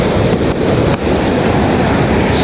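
Waves from a super high tide at night during a strong storm, a loud continuous roar of surf mixed with heavy wind buffeting the microphone, with no talking.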